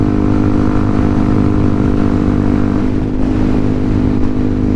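A Yamaha WR155 motorcycle with an upper-mounted exhaust rides at night, its engine droning steadily and loudly at a constant pace, close to the rider, with no speech.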